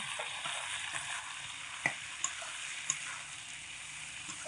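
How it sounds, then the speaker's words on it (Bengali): Flat beans fry in a pan while being stirred, a soft continuous sizzle with a few sharp clinks of the utensil against the pan. "আমি ঢাকা চাপাটা খুলে দিয়ে ছিমগুলোকে একটু নাড়াচাড়া করে দেবো"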